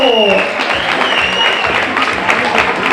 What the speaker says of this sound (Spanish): Le damos ese aplauso muy fuerte también para ellos